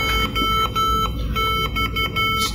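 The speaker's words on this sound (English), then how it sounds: "a simple payload beeping out my radio call sign in Morse code" Rapid electronic beeps from a computer speaker in an irregular on-off pattern, Morse code spelling a radio call sign, playing steadily over a low hum.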